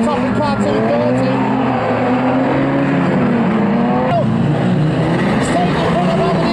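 Race cars on an oval track roaring at full throttle with engines wailing and shifting pitch as cars spin around, loud and continuous beneath a commentator talking excitedly.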